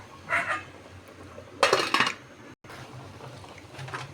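A metal lid goes onto a cooking pot of fish tinola with chili leaves, alugbati and onion leaves, making two short bursts of clattering metal against a quiet kitchen background.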